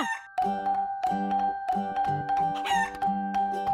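A chicken calls in repeated loud bursts close by, harsh clucking cries with brief pauses between them.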